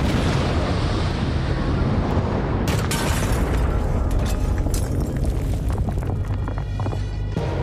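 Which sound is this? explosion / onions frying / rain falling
explosion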